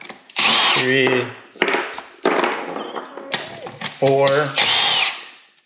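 A power tool spins off the 15 mm bolts of a Delphi 670/680 steering gearbox in several sharp, loud bursts with pauses between them, while a man counts aloud in between.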